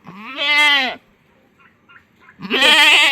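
A young goat kid gives two loud, close bleats separated by a short pause, with faint rustling in between.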